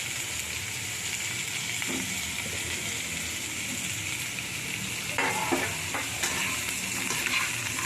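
Pumpkin pieces fry in a hot pan with a steady sizzle while a spoon scrapes and stirs them in a few short bursts near the end.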